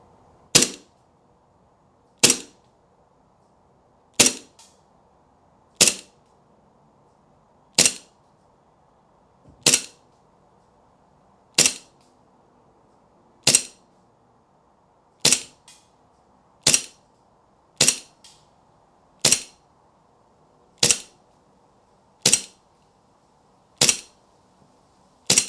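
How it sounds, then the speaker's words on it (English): A Springfield Armory 1911 MilSpec .177 BB airgun pistol with blowback action firing at a bottle, about fifteen sharp snapping shots at irregular intervals of one to two seconds, loud and close, with no speech. "I'm going to be showing some shots at the bottle as well, and also on the blowback action."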